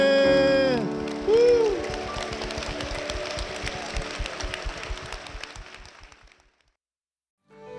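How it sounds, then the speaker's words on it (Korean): A church congregation applauds after a closing prayer at a Korean Full Gospel church, steady clapping rising over lingering music and voices, then fading into silence. "주님께 큰 영광의 박수를 드리겠습니다."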